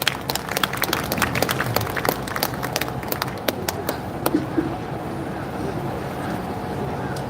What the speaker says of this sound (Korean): 여러분 박수로 맞아주십시오.